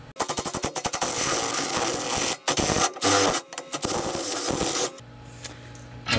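Rapid bursts from a pneumatic impact tool, loud and close, rattle in stuttering runs with short pauses while disconnecting the sway bar on a Kia EV6 during a lowering-spring install, ending in a lower steady hum.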